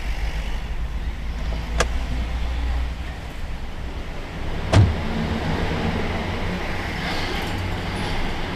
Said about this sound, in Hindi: मेरी गाड़ी आ गई है, मैं जा रहा हूँ।